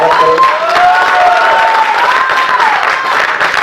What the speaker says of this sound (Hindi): एक बार सभी लोग जोरदार तालियों से कलाकारों का स्वागत करें